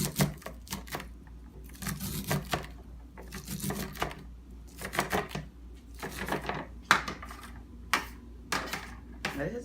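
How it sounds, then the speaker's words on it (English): A knife scrapes down fresh corn cobs to cream the corn, giving repeated close rasping, scratchy strokes in short bursts with brief pauses, alone and without talk. "Now take your knife and scrape down to the cob."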